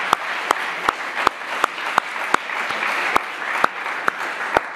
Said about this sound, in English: applause for all of them.